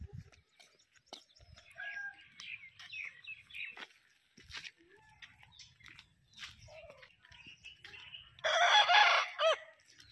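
A rooster crows and clucks outdoors in a rural setting, scattered calls through the clip with a louder, busier burst near the end, accompanied by faint chirping birds.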